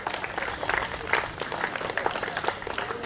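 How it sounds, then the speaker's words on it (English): An audience claps and applauds at a cricket premier league opening ceremony, a dense, steady patter of many hands at moderate distance. "Please give him a round of applause."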